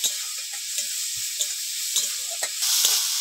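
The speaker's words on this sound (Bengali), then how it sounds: "লবণ, হলুদ, চিংড়ি মাছটা একটু হালকা করে ভেজে নেবো" Shrimp sizzle steadily in hot oil with salt and turmeric, a bright hiss holding throughout while a utensil gives occasional soft taps and stirs.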